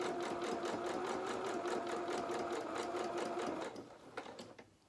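A sewing machine stitches fabric doll ears for a Highland cow doll, a fast, even, close mechanical chatter running steadily before a brief reverse and stopping near the end.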